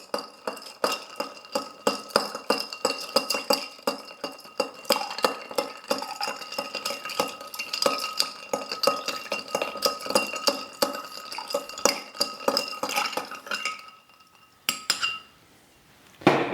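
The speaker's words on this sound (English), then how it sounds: "Let's give this a stir, and once again about 30 to 40 times around to make it nice and cold." Ice clinking and rattling as a Chartreuse martini is stirred in a mixing glass, a rapid steady run of bright chinks lasting over ten seconds, then a short pause and a final few clinks.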